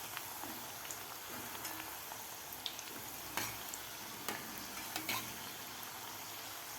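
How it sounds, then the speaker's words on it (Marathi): Small wheat-flour and jaggery kapanya snacks fry in hot oil until golden, a steady soft sizzle and bubbling with occasional faint clicks and pops, heard alone at low volume. "व्यवस्थित आपल्याला हे कापण्या तळून घ्यायच्या आहेत. थोडासा गोल्डन कलर होईपर्यंत आपल्याला तळायचे आहेत."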